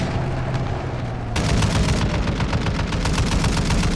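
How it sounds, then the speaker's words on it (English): Rapid automatic gunfire from Modern Warfare 2 Ground War, dense and loud, with a sharper burst of shots kicking in partway and continuing steadily to the end, no talking. "He was in a parachute and I shot at him."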